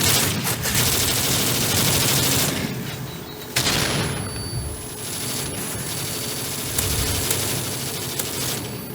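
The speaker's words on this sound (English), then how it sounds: "I got a stun and I keep pressing on the machine gun." Dense bursts of rapid machine gun fire in a first-person shooter video game, loud and close, with short pauses between volleys and mechanical clicks, no talking.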